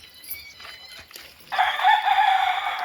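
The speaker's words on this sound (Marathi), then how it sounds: "तर मस्त नेचरमध्ये मस्त आवाज येतो पक्ष्यांचा बघा" Outdoors in a village during a wedding haldi, a bird call rings out strongly and continuously in the second half, after quieter chirps and faint background noise.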